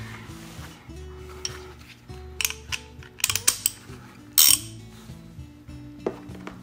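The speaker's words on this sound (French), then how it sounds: "17 mm et un petit ratchet, on va être en mesure de dévisser." A small ratchet with a 17 mm socket works at the oil drain plug of a Yamaha FJR1300 motorcycle during an oil change, making close metallic clicks, clinks and ratcheting bursts in uneven clusters, with one louder scrape near the end.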